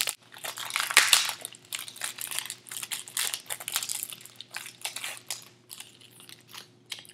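Crinkly wrapping being torn and a gift package opened close up, bursts of crumpling and rustling paper in uneven handfuls with short pauses between.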